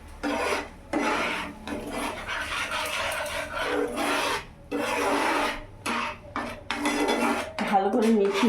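A spoon scrapes and stirs chilli powder paste with a little water in a metal cooking pan, in steady repeated rasping strokes with brief pauses, close and fairly loud.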